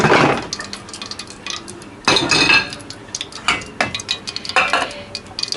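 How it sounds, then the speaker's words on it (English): Hot oil is ladled onto chili flakes for red-hot chilli oil in several separate sizzling bursts. Metal utensils clink and scrape against the bowl between the pours, all close up. "just gradually add the oil to the chili"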